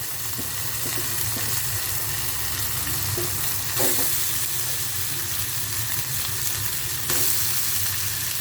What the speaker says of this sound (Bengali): দিয়ে এটাকে ভালোভাবে নেড়ে দেবো, মশলার সাথে মিক্স করে দেবো